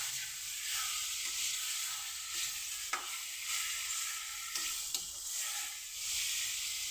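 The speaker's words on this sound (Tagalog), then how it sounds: "Yan yung sinasabi niya na dapat daw tumutunog yung kawali" Pork liver fries in a hot pan for an adobo-style dish with pepper, giving a steady close broadband sizzle with a few sharp pops and stirring scrapes, and no talking.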